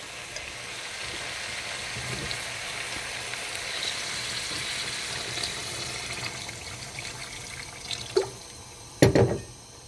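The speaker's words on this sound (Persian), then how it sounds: "خب الان دیگه آب میریزیم و میذاریم جا بیفته." Water poured into a cooking pot of simmering Persian stew, with a soft, steady bubbling background and a couple of short, splashy pours near the end, no talking.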